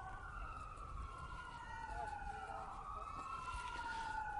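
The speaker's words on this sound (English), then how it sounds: "I was kind of waiting for those sirens" Emergency vehicle sirens wail in the distance, several overlapping rising and falling tones sweeping continuously over low background rumble, moderately faint and steady.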